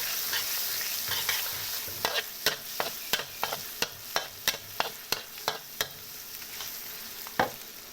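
Clams stir-fried with garlic in a hot pan, a steady close sizzle broken by a string of sharp regular scrapes and clacks of a spatula as the shellfish are tossed, with no talk.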